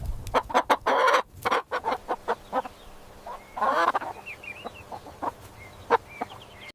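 A chicken clucks and squawks in quick bursts, with a louder cackle near the start and another midway, interspersed with short sharp clucks, close by.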